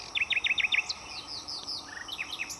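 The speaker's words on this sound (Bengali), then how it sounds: "এই পাখির আওয়াজ" Birds sing around a rural railway station in Howrah district: a quick series of five bright repeated chirps, then scattered higher whistles and tweets, moderately close over a soft background hum, with no talking.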